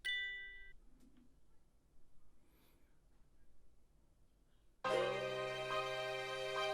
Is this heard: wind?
no